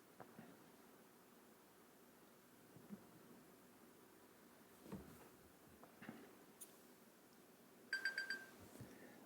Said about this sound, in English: That's a timer